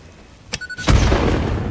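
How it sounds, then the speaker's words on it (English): An explosive charge clears rocks in the factory-building game Satisfactory on PS5: a short click and tone, then a loud, deep boom that rolls into a sustained rumbling tail. "This has a decent explosion."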